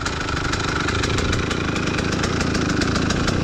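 A cheap secondhand KTM motorcycle engine runs steadily close by, a loud, even, rapid popping rumble at a constant pace with no voices.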